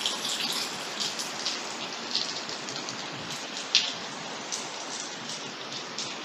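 Heavy rain pours steadily with a dense hiss of drops hitting surfaces, loud and unbroken, with a few sharper splashes.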